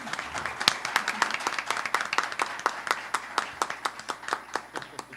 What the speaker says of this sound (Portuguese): Eu quero pedir a todos aplausos de boas-vindas às três conferencistas.